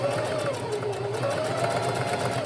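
A sewing machine hums at a steady speed as it stitches a half-inch hem seam with a 2.5 stitch length, an even mechanical whir that runs close and continuous under faint background sound.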